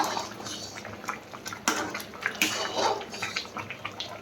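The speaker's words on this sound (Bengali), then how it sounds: "ভালোভাবে ফুটে গেছে।" Liquid boiling vigorously in an uncovered pot on a gas stove, close bubbling and gurgling with irregular pops and soft splashes, no voices.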